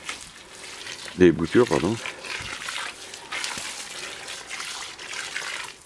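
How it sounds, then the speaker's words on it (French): Water is poured from a container onto fig cuttings set in soil, a brief close splash and trickle lasting under a second, while someone speaks in French through most of the moment. "je mets un petit peu d'eau, je rebouche les trous un peu avec l'eau"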